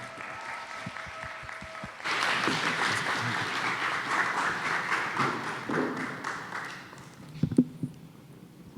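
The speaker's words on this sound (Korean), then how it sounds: "우리 김나연 선교사님 저희가 초청할 때에 우리 큰 박수로 환영해 주시기 바랍니다." A church congregation bursts into loud, sustained applause welcoming a missionary serving in Cambodia, after a few scattered taps; the clapping fills the room for several seconds and then thins out with a few thumps.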